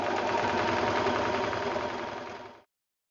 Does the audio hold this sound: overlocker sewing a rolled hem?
yes